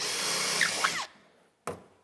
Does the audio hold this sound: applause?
no